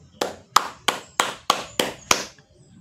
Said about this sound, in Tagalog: Oh, palakpak naman tayo dyan.